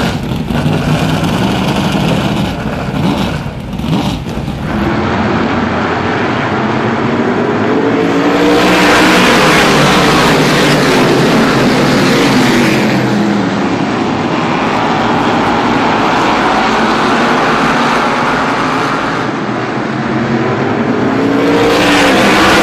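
Race car engines start and run at a motorsports event, a loud, steady mechanical roar with rising and falling revs that fills the whole stretch without pause.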